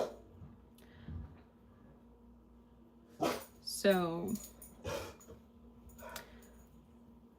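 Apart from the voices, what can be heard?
dog barking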